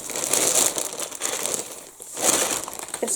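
Plastic bag being cut open around a pack of 58mm metal badge backs for a badge maker, with close crinkling and rustling that swells, dips briefly, then crackles again.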